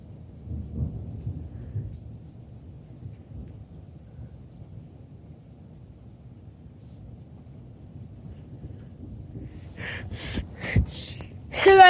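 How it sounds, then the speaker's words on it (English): Thunder rolls low and continuous through a hail storm, a dull steady rumble that holds for about ten seconds before a few sharp, loud impacts burst out near the end. "That is a lot of hail."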